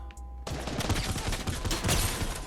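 Rapid bursts of Fortnite Battle Royale gunfire, loud and dense, firing in quick volleys for a couple of seconds after a short quiet start.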